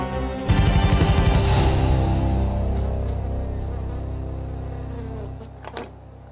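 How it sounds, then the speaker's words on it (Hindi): Bees shut in a box buzz in a loud, steady drone that starts suddenly, holds strongly, then slowly fades, with a few faint knocks near the end. "इस बॉक्स में दुनिया की सबसे खतरनाक मधुमक्खी हैं।"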